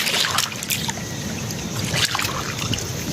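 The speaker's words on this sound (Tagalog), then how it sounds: "Lakas ang agos ah." Strong river current rushing past a small boat at high tide, a constant close, loud watery hiss with gusty wind buffeting the microphone and a few splashy knocks.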